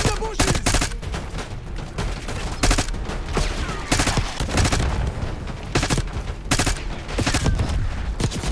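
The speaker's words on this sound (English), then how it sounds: "He's shooting in the thin air." Dense, sustained gunfire from the video game Black Ops 6 campaign, with bursts of rapid automatic shots and heavy booming volleys repeating across the whole stretch, loud and close with no talking.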